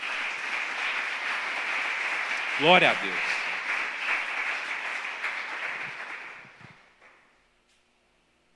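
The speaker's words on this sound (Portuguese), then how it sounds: "Você pode aplaudir o Senhor por isso?" A church congregation applauding, dense sustained clapping from a large group that holds steady, then fades away to silence near the end, with a voice speaking briefly over it early on.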